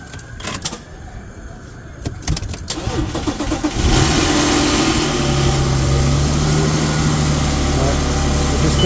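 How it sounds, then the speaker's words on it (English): An Audi A6 with a 3.2 FSI V6 cranks and fires up after a few faint clicks, then settles into a steady, loud, close idle that runs uninterrupted to the end. "I'm going to start up the car now"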